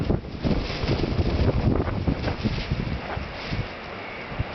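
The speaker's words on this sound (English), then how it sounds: "So it's about 25-mile-an-hour wind here." Strong wind of about 25 mph roars and buffets the microphone on a windy night beside a small titanium wood-burning stove, a loud continuous gusting rush filling the whole clip with no talking.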